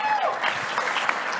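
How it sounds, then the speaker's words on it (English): An audience at an e-commerce forum event claps for someone, a brief burst of scattered applause with a voice talking over it. "round of applause for Eric for that"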